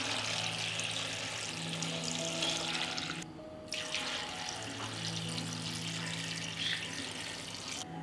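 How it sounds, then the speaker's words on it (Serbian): Water runs steadily into a cooking pot from a tap for a sour cherry syrup, a continuous close rushing stream with a brief break midway before the flow resumes. "U svaku šerpu dodajem po litar vode."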